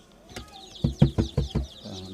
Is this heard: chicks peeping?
yes